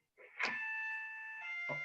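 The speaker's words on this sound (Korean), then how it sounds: "누가 초인종 누른다요?" An electronic doorbell chime rings indoors, a bright sustained two-tone ding-dong lasting about a second and a half with a second strike near the end, moderately loud and fairly close.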